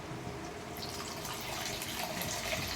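Water runs steadily into a pot of kara kuzhambu, a continuous gushing pour with a bubbling, splashy texture and no talking.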